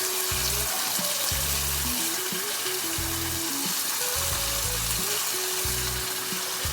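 Tomato and tamarind leaves fry in a pan with a steady, continuous sizzle that runs unbroken beneath background music.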